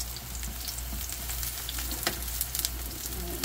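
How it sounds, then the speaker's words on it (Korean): Eggplant frying over medium heat in two frying pans at once, a soft, steady sizzle with scattered light crackles and pops. "빨리빨리 해야 돼서 프라이팬 두 개 놓고 구워요."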